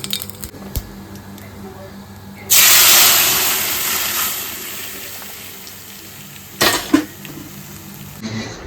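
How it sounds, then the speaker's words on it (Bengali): Lentils hit hot oil tempered with dried chilli and mustard seeds, setting off a sudden loud sizzling hiss that slowly fades over several seconds, with a second short burst of sizzle near the end. "শুকনো লঙ্কা আর সর্ষে ফোড়ন চলে গেছে এবার যাবে ডাল"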